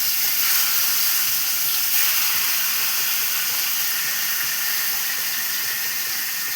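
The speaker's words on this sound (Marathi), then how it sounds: "पहिल्यांदा इकडे फिश फ्राय करून घेणार आहे," Fish shallow frying in a hot pan gives a loud, steady sizzling hiss that runs on unbroken, with no voices over it.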